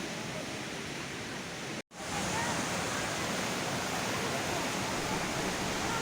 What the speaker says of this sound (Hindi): जो पानी नीचे झरने का पानी जो इकट्ठा हो रहा है नीचे, इसे अमृत कुंड कहा जाता है